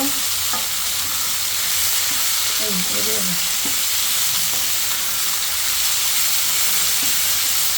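Desi potatoes fry with salt in a pan, giving a steady broadband sizzle and hiss throughout, with a few clinks of the stirring spoon scraping against the pan.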